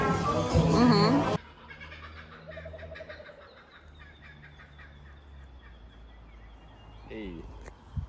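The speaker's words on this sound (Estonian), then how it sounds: "Need on Austraalia linnud." Wild birds call outdoors in Australia, starting with a loud, dense burst of squawking, then continuing as softer chattering and gobbling calls at a distance, with a brief sharper flurry near the end.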